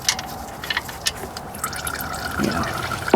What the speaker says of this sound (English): I'll let her drip a little longer